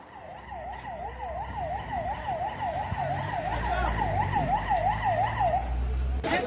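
An ambulance siren wails in a steady rapid up-and-down cycle, moderately close, over rumbling traffic and street noise with no talk.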